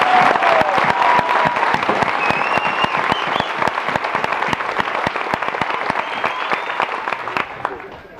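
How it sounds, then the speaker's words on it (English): Sustained, loud applause from an audience at an Army basic training graduation ceremony at Fort Jackson, South Carolina, greeting a military band after its performance; dense clapping fills the whole stretch, fading slightly toward the end. "Let's give them a round of applause."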